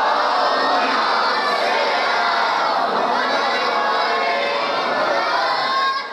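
A congregation in a Lahore imambargah during a Muharram majlis loudly and collectively recites salawat, a dense, sustained roar of many voices that stays at full level almost throughout before dropping slightly at the very end.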